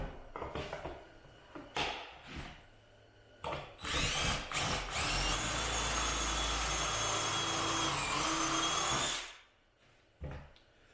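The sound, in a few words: drill driving pocket hole screw into plywood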